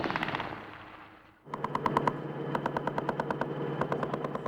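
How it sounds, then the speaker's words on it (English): Rapid bursts of automatic gunfire crack through a city street in Basra during the 2003 Iraq war, sharp repeated volleys following a quieter stretch of distant rumble, loud and close with a steady low hum underneath. "gunfire rings out in the city of Basra itself"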